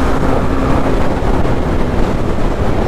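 A Honda CB300R motorcycle accelerating hard on the road, with a loud, continuous engine roar mixed with heavy wind rush across the microphone.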